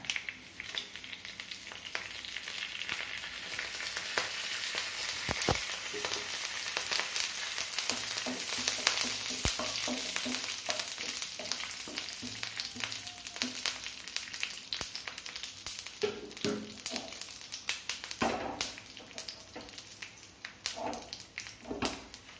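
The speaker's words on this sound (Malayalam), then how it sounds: "കടുക് പൊട്ടിയതിലേക്ക് നമുക്ക് കരിവേപ്പിൻ്റെ ഇല ഇട്ട് വെക്കാം" Mustard seeds pop and crackle in hot coconut oil with dried red chillies, a continuous quiet sizzle scattered with sharp irregular pops and a few louder spatters, and no talking.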